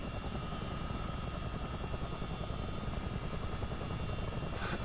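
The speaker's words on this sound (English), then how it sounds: "sounds like the APU is on" A steady turbine whine and low mechanical drone from a CH-47 Chinook helicopter's APU in a video game run continuously, with thin high tones over a rumbling base.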